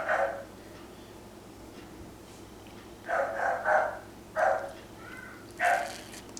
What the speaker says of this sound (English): Pardon my obnoxious dog.